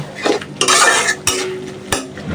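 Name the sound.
stirring and frying spice masala in a pan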